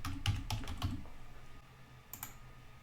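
Several quick keystrokes on a computer keyboard as a password is entered during an Ubuntu Kylin 20.10 install, a short burst of clicks early on and a brief second flurry near the end, close and fairly quiet.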